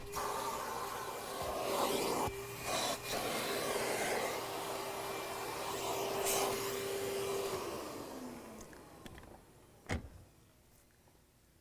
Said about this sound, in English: We would then continue that all the way around, vacuuming all of the surfaces, all of the upholstered surfaces of the vehicle.